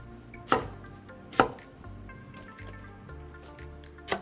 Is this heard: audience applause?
no